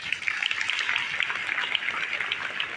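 A crowd at a school address gives steady, moderately loud applause, a dense patter of clapping that lasts throughout.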